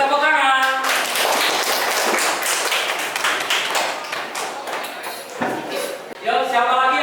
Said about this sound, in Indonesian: kembali tepuk tangan.